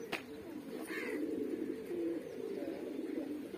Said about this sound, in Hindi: क्या प्यारा कबूतर है